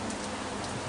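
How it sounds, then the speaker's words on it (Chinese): Steady rain falling over a street in Kuala Lumpur's Little India in Malaysia, a continuous even hiss with no breaks and no voices. "下雨嘛"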